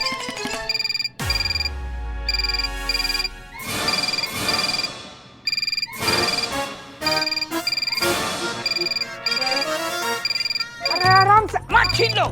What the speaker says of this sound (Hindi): ये फोन मेरा है। हमारी डेस्क पे बजा।